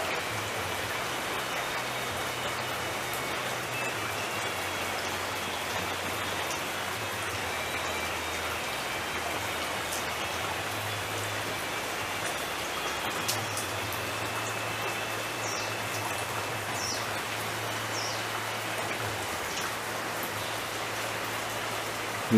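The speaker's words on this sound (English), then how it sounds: "It's been raining" Steady rain falling through the night, a dense, even hiss of drops spread across the whole stretch with no breaks and no voices, with a low hum running underneath.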